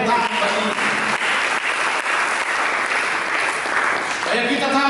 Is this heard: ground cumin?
no